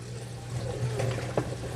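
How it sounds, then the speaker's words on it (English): A reef tank protein skimmer runs steadily with soft bubbling and trickling water over a low hum, a faint, continuous wash with small gurgles. "So if I turn the protein skimmer on,"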